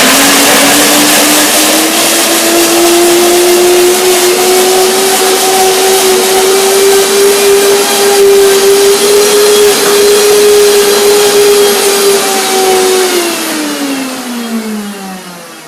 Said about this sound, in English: I put some water to get them blended, and I start the blender dance.